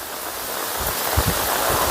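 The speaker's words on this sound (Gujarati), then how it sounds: "જો કેટલો વરસાદ છે" A steady, dense hiss of heavy rain pours down in Gir Forest, with a few soft low thumps underneath and no voices.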